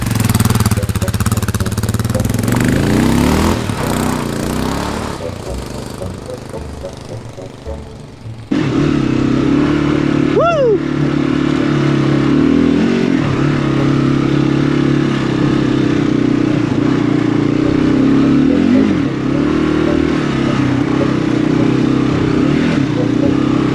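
Kawasaki KLR650 dual-sport motorcycles ride through cold Australian countryside, a steady engine drone with wind roar throughout, a brief drop-off then a surge as the engine note rises again, with faint voices under it.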